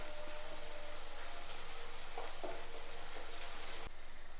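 Green chilies and curry leaves sizzle in hot oil in a pan while a Kerala-style eggplant curry is being cooked, a steady close crackle and hiss with a few brief pops.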